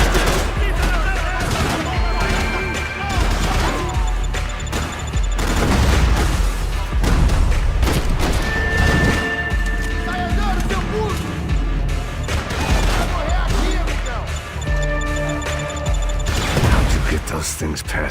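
Grenade explosions and gunfire in the video game Max Payne 3: dense, continuous barrage of shots and crashing blasts, loud throughout, with voices speaking over parts of the action.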